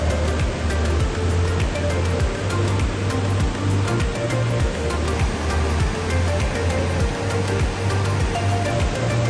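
Doupotang waterfall at Huangguoshu, Guizhou, with a crest 105 metres wide, gives off a constant loud roar of falling water, with a low rhythmic thumping pulsing beneath it throughout.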